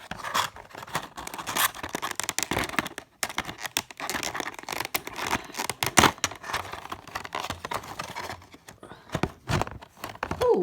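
Packaging of a Phoenix Aeroflot model airplane is opened by hand with crinkling, tearing and scraping, a close, busy run of sharp rustles and snaps, no talk.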